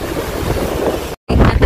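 Strong sea waves surge against a boat, a loud roaring wash of water with heavy wind buffeting the microphone, broken by a brief dropout before the rush returns.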